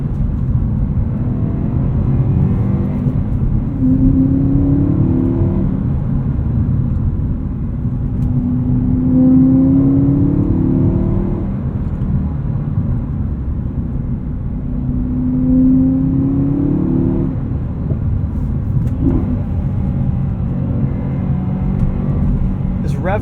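A naturally aspirated E92 BMW M3 Lime Rock Edition with a six-speed manual pulls hard through the revs from the cabin, a steady loud engine drone with rising harmonic sweeps as it accelerates, while a voice talks over it.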